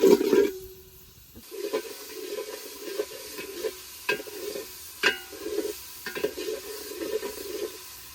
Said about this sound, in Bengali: পেঁয়াজ রসুন গুলো ভালোভাবে ভেজে নেই